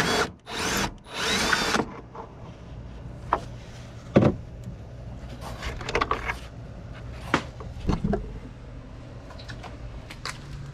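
Power tool with a 10mm socket removing a headlight bolt on a 2018-2020 VW Atlas: a loud, close whirring burst of about two seconds, followed by scattered clicks and clatters of tool handling.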